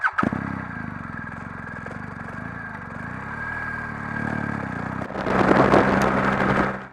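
BMW GS Trophy event motorcycle engine running out on open moorland roads, a steady droning note that swells louder and rougher near the end as the throttle opens.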